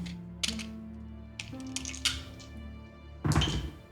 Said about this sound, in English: He's rolling dice. Rolling some dice